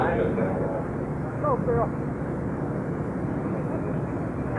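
A low, steady airplane drone passes over a beep baseball field at the 1983 World Series championship game, loud and continuous throughout while people talk over it.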